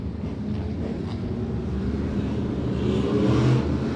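Race cars roll around the Claremont Motorsports Park track behind a Toyota Camry pace car, making a continuous broad engine roar that swells slightly toward the end, with wind-like rumble and no voices.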